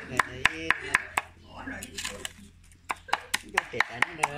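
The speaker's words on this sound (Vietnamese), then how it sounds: "Là phải băm nhỏ thế này." A knife finely minces fishing bait on a board in quick, sharp, regular chops. A voice breaks in during a short pause midway before the rapid chopping resumes.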